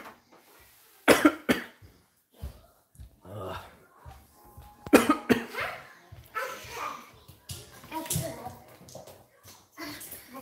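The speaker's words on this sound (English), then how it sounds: "I'm coughing right now pretty bad" Someone coughs hard in several bursts, with throat clearing in between. A dog barks and whimpers in the background and there are quiet indoor noises.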